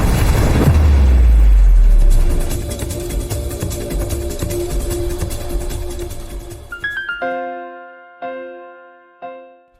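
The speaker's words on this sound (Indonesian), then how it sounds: "Kenapa mobil Ica tiba-tiba meledak?" A car suddenly explodes in a parking area with a loud, close deep boom that rolls into a long rumbling roar, fading over several seconds before a few sharp ringing tones punch in near the end.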